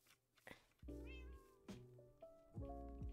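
Cats in Minecraft meow several times in a row, short separate calls that come and go with brief gaps, quite faint and with no speech over them.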